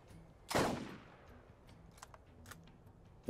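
A single loud sniper rifle shot cracks out with a long decaying tail in the Borderlands video game, followed by faint clicks and a second sharp report at the end.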